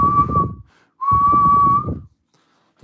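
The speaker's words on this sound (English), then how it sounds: "the shiny whistle that went" Two long, steady whistle blasts, each sounding for about a second with a short gap between them, loud and close.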